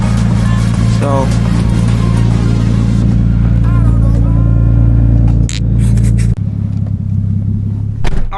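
Nissan Skyline R32 GTS-t with an RB20 engine and straight-pipe exhaust rumbles loudly and steadily while driving, with a couple of brief dips near the end.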